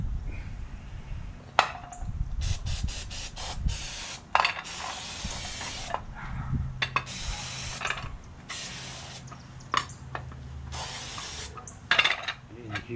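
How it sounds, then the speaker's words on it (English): Carb cleaner aerosol sprayed in repeated short and longer hissing bursts onto a small motorcycle's parts, loud and close, separated by brief pauses over a low mechanical background. "Always use eye protection when spraying this carb cleaner."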